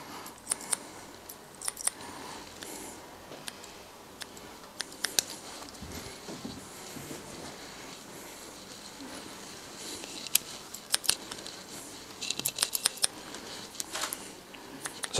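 Barber's scissors snip through hair during a haircut, giving quick, crisp, close clicks in irregular bursts that cluster densely toward the end over a quiet room background.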